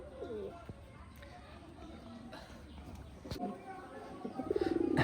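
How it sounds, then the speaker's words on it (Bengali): A black Bajial pigeon coos in a loft, with soft repeated throaty coos near the start and louder ones at the end over steady background noise. "এবার আপনাদের দেখাবো এটা আমার কালো একটা কবুতর"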